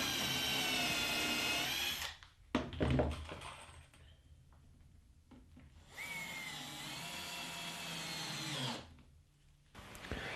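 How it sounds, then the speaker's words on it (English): Countersunk screws are driven into workbench parts with a power drill in two sustained bursts of whirring, separated by a pause with clicks and handling knocks, close and loud. "Then they're screwed together, making sure the screws are all well countersunk in."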